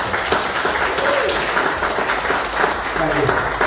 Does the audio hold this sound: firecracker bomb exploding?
no